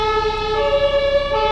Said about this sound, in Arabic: إسعاف